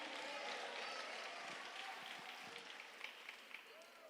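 A church congregation applauds with dense, continuous clapping that fades slightly toward the end, while voices murmur underneath.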